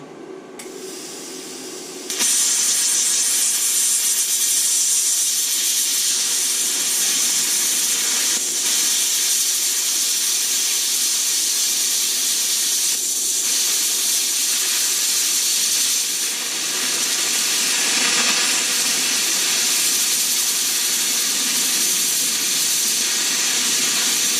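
A Herocut 23i plasma cutter slicing through metal gives a loud, steady hissing roar that starts abruptly after a quieter moment and holds constant for over twenty seconds, with slight wavering in intensity.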